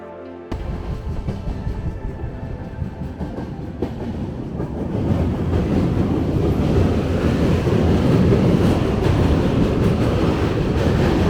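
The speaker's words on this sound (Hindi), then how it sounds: "यहाँ से ट्रेन पास हो रही है, ट्रेन को हॉल्ट पे लगाया गया है।" A train passes at Prayagraj station with a loud, continuous rumble and rattle of wheels on the rails. The sound grows steadily heavier and closer over several seconds, with no voices.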